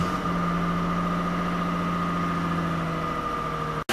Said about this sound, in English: start the engine and let it warm up